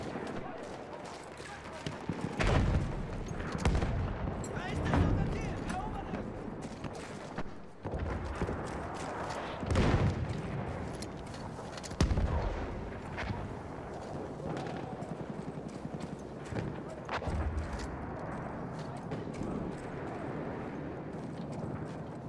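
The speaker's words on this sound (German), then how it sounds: "Das ist ein feindlicher Schuss, Soldat!" Enemy gunfire in a video game fires as sharp, irregular shots and short bursts, scattered through constant battle noise and mixed with voices.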